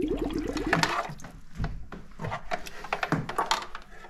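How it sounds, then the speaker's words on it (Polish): A splashy plunge as a pump drops into a bucket of water, followed by sloshing and a few knocks against the bucket, close and fairly quiet. "Pompa ląduje na dnie wiadra."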